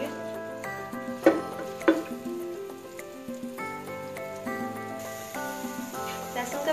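Garlic paste sizzling in three to four tablespoons of hot oil in a pan, a soft steady crackle with a few stirring scrapes, under faint background tones.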